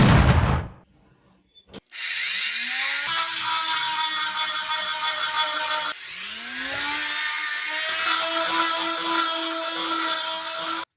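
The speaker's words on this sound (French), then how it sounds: "Maintenant, je vais repercer mes rondelles." A drill bores out clutch spring washers for a Beta 80 motorcycle, a close, loud whining rotary tone that starts abruptly, runs steadily with pitch dips as the bit bites, and briefly stops midway before resuming.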